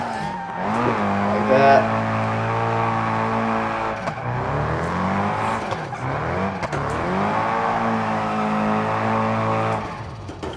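A car held in a handbrake drift in BeamNG.drive, engine droning and shifting pitch as revs rise and fall through the slide, loud and continuous while someone talks over it.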